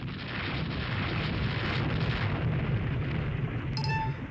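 Two 20-inch shell hits on an armored cruiser in Rule The Waves 3, heard as a heavy, sustained rumbling roar that fills the whole span, muffled and steady, with a faint tonal blip near the end and no talk.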